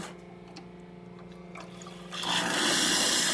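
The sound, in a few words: hot water dispensing from espresso machine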